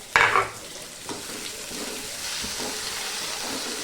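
Okra with spice masala stir-frying in a pan: a sharp burst of sizzle as ingredients hit the hot oil, then a steady crackle with occasional stirring scrapes, close and alone.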